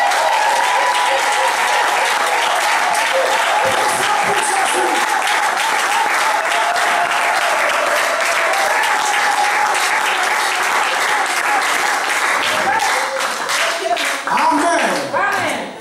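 A church congregation applauds loudly and continuously, with dense sustained clapping mixed with cheers and voices that runs the whole length before tapering at the end.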